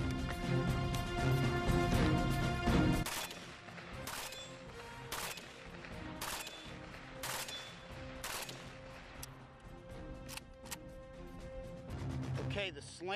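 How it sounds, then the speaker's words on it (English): An AK-74 assault rifle with a slant brake muzzle compensator fires repeated short bursts on a range, loud sharp cracks in clusters of two or three shots with brief gaps between, and talk is heard between bursts. "I'm gonna put 2 or 3 round bursts on that left hand 12 by 12"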